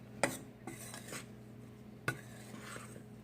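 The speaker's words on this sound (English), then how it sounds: "Just give it a quick little mix. Make sure you fold in all of that butter" Biscuit dough being mixed by hand in a bowl, folding in butter before white lily flour goes in: soft rubbing and stirring with a couple of sharp clinks of utensil against the bowl, close and quiet, no voices.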